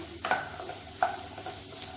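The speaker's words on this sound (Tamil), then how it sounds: "இதையும் சேர்த்து நல்லா வதக்கிக்கலாம்." Finely chopped beans being sautéed in a pan: a quiet, steady sizzle broken by a few soft scrapes and clinks of stirring, with no voices.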